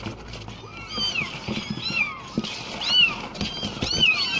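Young kittens meowing repeatedly: high, rising-and-falling mews, several in quick succession and sometimes overlapping, fairly close, with soft handling noises and a little background talk.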